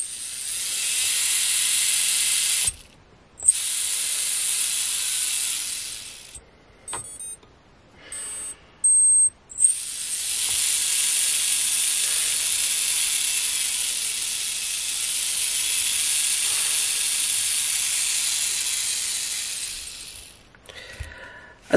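A gearbox motor converted from brushed to brushless whirs with a steady high-pitched whine, stopping briefly a few times with short starts and stops before running on steadily for a long stretch, close and alone.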